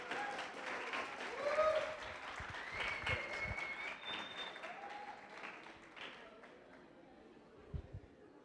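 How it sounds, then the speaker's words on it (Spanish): An audience at a university lecture gives a round of applause for the speaker, steady at first and then fading out over several seconds, with some chatter underneath. "Un fuerte aplauso, por favor."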